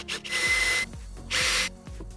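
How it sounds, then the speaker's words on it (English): A power drill with a 1/2 inch bit bores into wood for an ice tool hang board, giving two loud whirring bursts of roughly half a second each, with short spin-down whines and pauses between them. "I'm just using a power drill with like a 1/2 inch drill bit in here."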